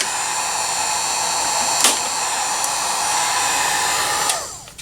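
Heat gun blowing hot air steadily while plastic is reshaped on a Philco 41-245 radio under restoration, a continuous loud hiss for nearly five seconds that cuts off at the end with a faint click.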